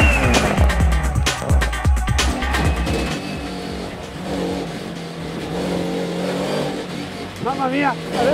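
A DTM race car engine revving hard, loud and close, with rapid throttle blips and gear changes early on that settle into a sustained roar, and a voice exclaiming near the end.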